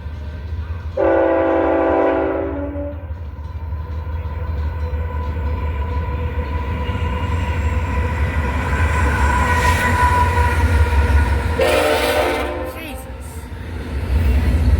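A freight train horn blasts loudly twice, at the start and near the end, over the steady deep rumble and clatter of the passing train.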